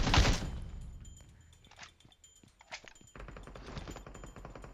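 Gunfire in PUBG Mobile: a loud burst of rapid shots opens, then scattered fainter shots and thumps follow at varying distances, with a denser run of firing near the end.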